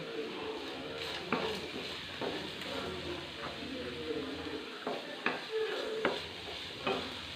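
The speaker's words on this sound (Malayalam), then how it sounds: "ഇളക്കി കൊടുത്താൽ മതി ഒരല്പം മഞ്ഞപ്പൊടിയും കൂടെ ഇതിനകത്തേക്ക് ഇടാം" Yardlong beans with turmeric being stirred in a pan, soft scraping and gentle sizzling with intermittent clacks of the spoon against the pan, faint and close.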